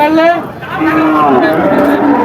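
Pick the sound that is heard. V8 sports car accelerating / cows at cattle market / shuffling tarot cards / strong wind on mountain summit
cows at cattle market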